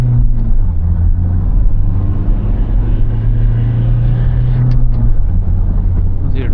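A Toyota Innova Crysta ZX manual in power mode with traction control off accelerates hard in first gear, a loud, steady engine drone from inside the cabin that climbs toward the end.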